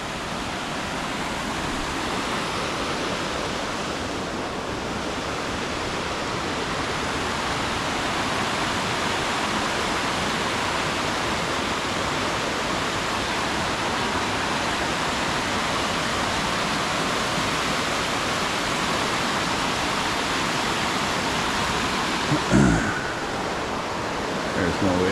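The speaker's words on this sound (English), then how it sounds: "because then I go through the runoff to the waterfall." Waterfall runoff in a Norwegian fjord valley, a steady loud rush of falling and splashing water filling the whole stretch with no pauses, close by and unbroken, with a brief knock near the end.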